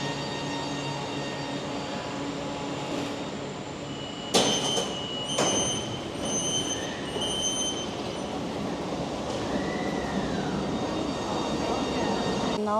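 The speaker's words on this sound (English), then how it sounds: "now I'm in the subway station and I'll take the subway to the next stop" Steady rumble of a subway train in a station in China, with a couple of sharp metallic clanks and brief high wheel squeals over the continuous hum.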